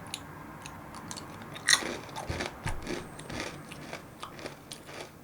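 A crunchy Homeplus tteokbokki-flavored snack is bitten and chewed close to the mic. There is one sharp bite, then a run of crisp crunches and chewing, with no talking.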